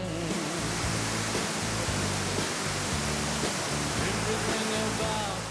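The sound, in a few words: waterfall water pouring down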